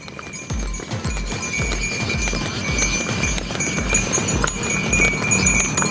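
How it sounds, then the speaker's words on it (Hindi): Buffaloes being led along a main road to the fields, their hooves clopping in a steady, repeated rhythm close by over a constant outdoor background. "मेन रोड से लेके जाएंगे भैंसों को खेत पे।"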